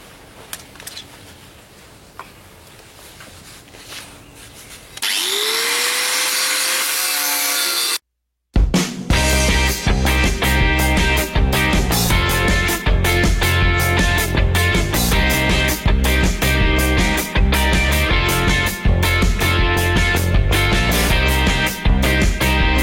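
A power tool saws into a weld seam on a brake disc, running as a loud, continuous grinding buzz for most of the clip, broken by one short pause, after a quieter stretch of scraping.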